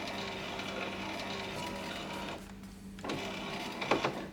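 Rear power window motor in a BMW E39 5 Series with a broken regulator, whirring faintly and steadily, then briefly dropping out before a short mechanical clunk near the end.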